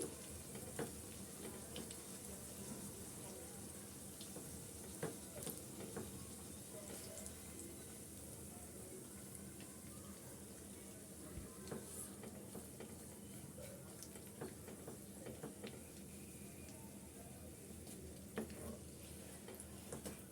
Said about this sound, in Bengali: উল্টিয়ে পাল্টিয়ে একটু আমি ভেজে নিচ্ছি এই মিষ্টি কুমড়োর পুরিগুলো